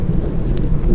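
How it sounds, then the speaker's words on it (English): Thunder rumbles low and loud alongside steady rain, a continuous close wash of storm noise with no voices. "some thunder going on today"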